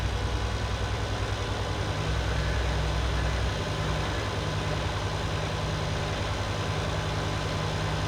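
A tractor in need of a service idles in Farming Simulator 22, a steady, loud, low engine rumble that holds unchanged throughout.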